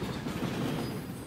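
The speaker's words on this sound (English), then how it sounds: "that train loud as hell." A loud train rolls past nearby, a dense continuous rumble with rhythmic clatter from the wheels, heard alone with no talk.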